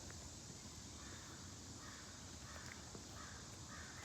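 Faint crows cawing in the distance, a few repeated calls over a steady outdoor hiss.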